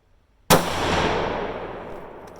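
A single sharp rifle shot from a Ruger American Predator in 6.5 Grendel firing a 100-grain handload with Alliant Reloader 17 cracks loudly and rings off into a long decaying echo, followed by a brief click at the end.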